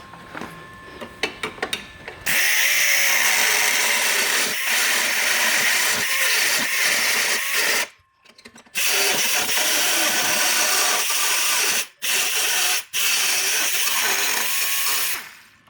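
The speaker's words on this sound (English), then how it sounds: "we're going to use this aluminum grinder bit for that" An aluminum grinder bit cuts into an intercooler housing with a loud, continuous high-pitched whine. Brief stops and restarts break up the long runs, and a few soft clicks come before it starts.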